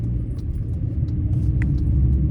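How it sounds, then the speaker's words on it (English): A police car rolls past with a low, steady engine rumble, moderately close, with faint light clicks and jingles over the drone and no siren. "Is that a cop car? That's a cop car."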